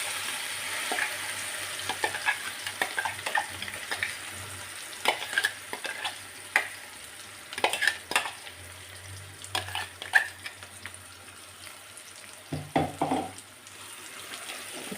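A spoon stirs tomato fenugreek chutney in a pan, making repeated scraping clicks and soft sizzling that return in an irregular rhythm, close and clear, with no one talking.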